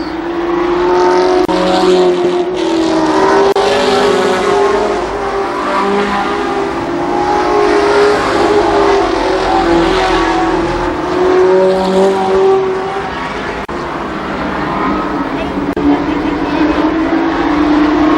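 Race cars roar around Columbus Motor Speedway in a 1993 event, engines loud and continuous as they rev and pass, with a few faint voices blending into the din.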